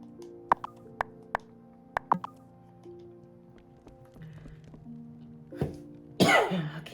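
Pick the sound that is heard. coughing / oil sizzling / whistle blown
coughing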